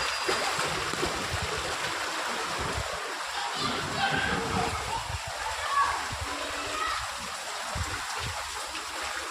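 Knee-deep floodwater on a flooded Kolkata street churns and sloshes steadily as a man rides a bicycle through it, a continuous rushing wash with voices faintly underneath.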